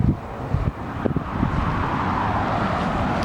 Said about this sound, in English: Wind's blowing, and these pumpkins will have been all over the yard by then.